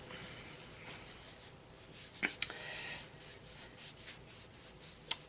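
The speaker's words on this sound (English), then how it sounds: "Now, I just want to rub off anything that's stuck on my hand." Skin rubbing against skin as leftover makeup is wiped off a hand, a soft, close, continuous brushing friction with a couple of faint sharp ticks, no speech over it.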